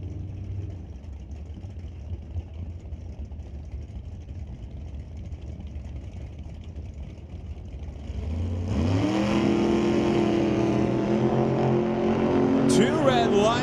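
A 1966 Valiant and a Studebaker Commander drag race car idle with a low rumble under an announcer's voice, then the engines roar loudly into a rising rev and launch, the sound swelling and sweeping upward.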